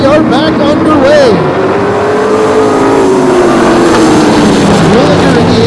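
Vintage modified race cars roar loudly at Flamboro Speedway as they accelerate on a restart, their engines droning and rising in pitch continuously over the whole stretch, with a voice talking over them.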